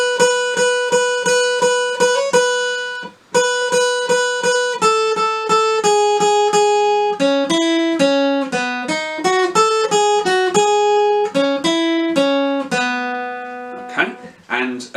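A solo guitar plays the transcribed horn intro of a song, with clean, close, bright picked notes in a bouncy rhythmic pattern that moves through a short melodic phrase and repeats.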